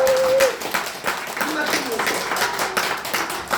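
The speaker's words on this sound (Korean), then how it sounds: "박수 한번 쳐주세요." A Korean church congregation at Immanuel Church Sunday worship bursts into dense, steady clapping, and a voice speaks over it.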